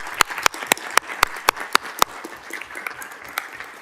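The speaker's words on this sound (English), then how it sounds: "We will clap for you and welcome you." Board meeting audience clapping to welcome a newly seated trustee: a handful of sharp, distinct claps in a steady rhythm at first, thinning into scattered lighter claps, fairly close in a quiet room.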